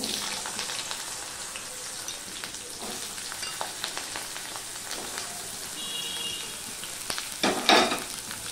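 Cut potato pieces sizzle and crackle steadily in hot oil with tempering spices, a dense, continuous frying hiss with small pops, swelling into a louder burst near the end as the pan is stirred.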